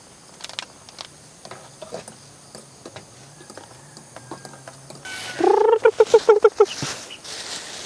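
A chicken gives a quick burst of loud clucking calls near the end at a campsite in Tanay, Rizal, after scattered soft clicks and quiet background noise.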